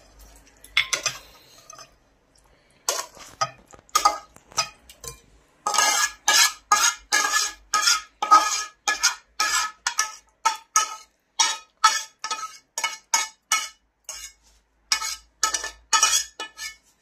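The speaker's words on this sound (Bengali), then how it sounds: "এখন আমি প্লেটের মধ্যে ঢেলে নেব।" Cooked mutton kosha, a thick Bengali curry, is scraped and poured from a hot pan onto a plate, giving a long run of repeated metallic scrapes and clinks of a spoon against the pan in a steady rhythm, close and fairly loud, with no talk.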